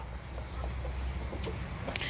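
Chickens in a chicken house give scattered short clucks over a steady hum of noise, with a sharper call near the end and nobody talking.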